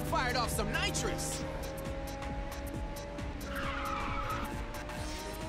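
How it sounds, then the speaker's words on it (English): A race car in Ridge Racer 6 fires a nitrous boost, a loud, sustained engine roar with tire squeal and whooshing bursts, heard up close over constant racing noise with a voice talking over it. "Someone fired off some nitrous."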